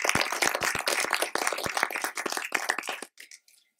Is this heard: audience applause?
yes